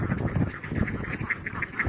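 A flock of farm laying ducks quacks steadily, with rapid overlapping quacks forming a busy, fairly close chorus.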